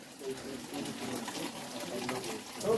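Water trickles down from tree roots at a forest pilgrimage site near Saleshwaram, a soft, steady wet patter under broadband outdoor noise, with voices present throughout.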